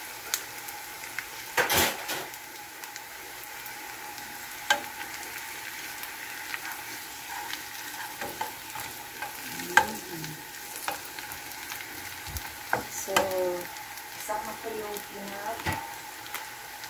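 Pork chops fry in a pan with a faint, steady sizzle, broken by occasional clinks and scrapes of utensils against the pan, fairly quiet throughout.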